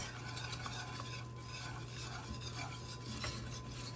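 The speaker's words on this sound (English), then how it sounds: "So with 3/4 cup of butter, I've got 3/4 cup of flour in here. Just gonna stir that around." A butter and flour roux is stirred in a pan, with soft continuous scraping and faint clinks of the utensil against the metal over a low steady background hum, quiet and close.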